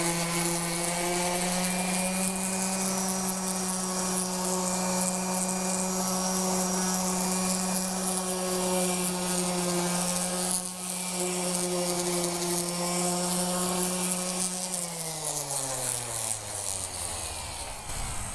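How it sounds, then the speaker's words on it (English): Continuous buzzing whine of a palm sander running steadily on wood, then its pitch drops as it slows down near the end. "get your palm sander and go ahead and start sanding"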